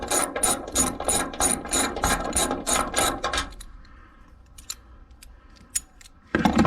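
A ratchet wrench cranks out the top hood bolt to make room for an LED pod light bracket, a fast run of loud, evenly spaced clicks for a few seconds, then near quiet with a couple of faint clinks and a final burst of clicking.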